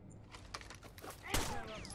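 Gunfire bursts in the Rainbow Six: Vegas 2 Terrorist Hunt mode, a few quick scattered shots followed by a louder sharp report near the end, with faint game noise underneath.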